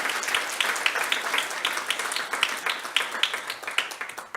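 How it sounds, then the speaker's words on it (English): A short burst of steady clapping from a conference audience in a hall, many hands at once, fairly close and continuous, with no talk over it. "Let's have a round of applause for the Quest people."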